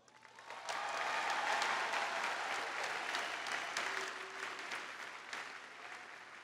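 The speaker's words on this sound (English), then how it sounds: "Can we give them a round of applause?" Crowd at a college spring commencement ceremony breaking into applause, swelling quickly after a quiet start into sustained, fairly distant clapping that slowly tapers toward the end.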